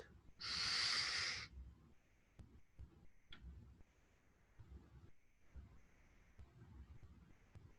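One deep, loud nasal inhale lasting about a second during a Tummo breathing exercise, close and breathy, followed by quiet stillness with faint ticks and small movements.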